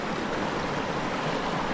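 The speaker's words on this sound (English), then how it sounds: "The river is big." A big, swollen river rushing past an old brick aqueduct after rain, a broad steady roar of flowing water heard close and loud with no talking.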